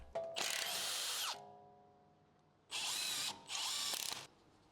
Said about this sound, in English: Use a 15mm socket and a 17mm wrench to remove the rear sway